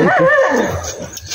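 Dog barking and howling outdoors in a forest, a loud, close, wavering yelp-howl that fades, with brief noise after.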